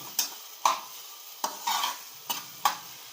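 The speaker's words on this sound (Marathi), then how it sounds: "शिमला मिरच अशी चांगली परतून घेतलेली आहे बघा" Capsicum sautéing in a pan for pav bhaji, a spatula scraping and stirring in six distinct strokes over a soft, steady sizzle, close by with no voices.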